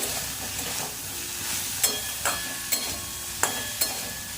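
Bitter gourd chorchori with tomato, green chilli and spices being stirred in a pan: a low, steady sizzle of frying with several sharp spoon scrapes and clinks at regular intervals, no talking.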